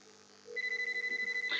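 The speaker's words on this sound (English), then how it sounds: "So I got an incoming call here." A WebRTC browser softphone ringing for an incoming call, a steady electronic tone pulsing in rapid even beats, clear and alone after a brief murmur.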